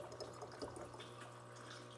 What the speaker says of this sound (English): And now we're going to add more distilled water until we reach